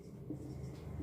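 Marker or chalk writing numbers on a classroom board during a maths lesson, a steady faint scratching over about a second with a low hum beneath.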